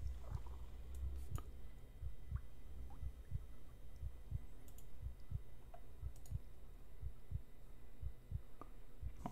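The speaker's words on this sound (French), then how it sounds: "Plus j'ai les sons du battement de cœur dans mes oreilles là." A steady heartbeat thumps in a Rayman video game, soft low beats repeating at an even rhythm over a faint hum, with small clicks scattered through.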